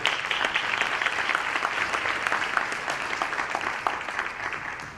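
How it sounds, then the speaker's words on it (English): Audience at a BMEC 2017 gathering giving a sustained round of applause, with dense, even clapping and a few sharper claps standing out throughout. "So give brother Yusuf a round of applause as he comes up to share"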